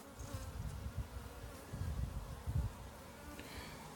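Honey bees buzz around hive frames while a hive split is being made: a dense, continuous swarm hum close by, swelling in a few louder bursts, with no talking.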